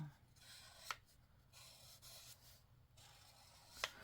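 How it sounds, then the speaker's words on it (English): Soft, continuous crackling and rustling of paper under watercolor painting, close and quiet, with two sharper crisp snaps standing out near the start and end. "You can hear my paper like going to town with the crackles."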